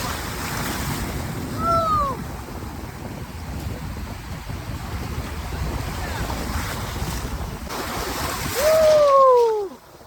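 Sea waves roll onto Tajpur beach in a steady, broad wash of surf mixed with buffeting wind against the microphone, with a couple of brief whistling tones rising above the roar.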